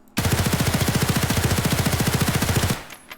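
An HK 416 rifle in Escape from Tarkov fires one long sustained full-auto burst of about thirty rapid, evenly spaced loud shots, then stops abruptly, leaving a short tail with a couple of faint clicks.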